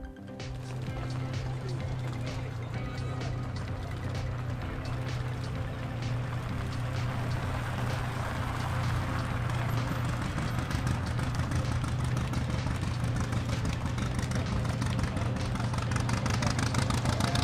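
A 1921 Leyat Helica, a French propeller-driven car, running with a steady, droning engine and propeller tone. Strong low harmonics hum continuously and grow slightly louder over the stretch.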